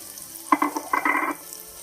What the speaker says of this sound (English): as soon as the garlic starts to sizzle and get some more yellow color, we add the onion